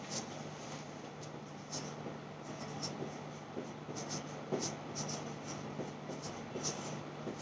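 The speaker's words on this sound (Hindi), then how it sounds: "ऊपर से ही लिखती हूँ" Pen or chalk scratches across a classroom board in short, quiet strokes and taps, a faint irregular run of writing sounds over low room hum.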